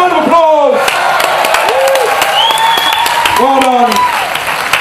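Crowd applause and cheering at an outdoor chilli eating contest in Dorset, a steady dense wash of clapping running throughout, with a voice speaking over it and voices calling out.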